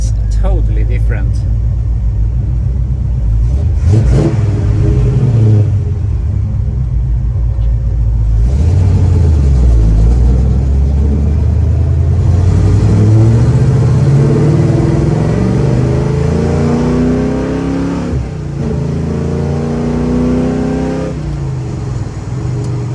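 A Chevrolet Chevelle's engine and exhaust rumble loudly while driving, a deep continuous drone with rising and falling revs as it accelerates, heard from inside the car with someone talking over it.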